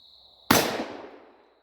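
A single sharp, loud report from a Taurus 66 .357 Magnum revolver fires close by and rings out in a decaying echo for about a second.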